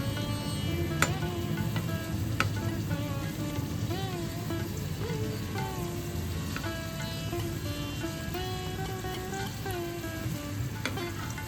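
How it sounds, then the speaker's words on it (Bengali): Steady, continuous sizzling of an egg patty frying in hot oil over a medium flame, with occasional soft pops and clicks. "যেহেতু মিডিয়াম ফ্লেমে আমরা এটাকে ভাজছি, তাই কি সুন্দর আস্তে আস্তে ফুলে উঠছে"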